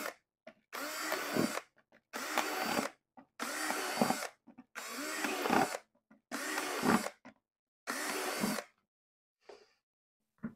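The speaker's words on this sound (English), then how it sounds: "So I'm going to drill some holes in the bottom, probably 6 to 8, and I'm going to stop talking so I don't talk over the drill." A power drill bores holes in the bottom of a plant pot, running in seven loud bursts of one or two seconds each, separated by short pauses.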